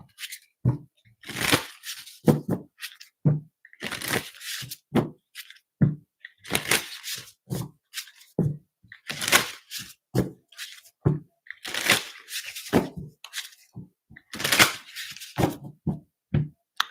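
Tarot deck shuffled by hand in repeated crisp riffles and cracking slaps, close and steady across the whole stretch, with no talking.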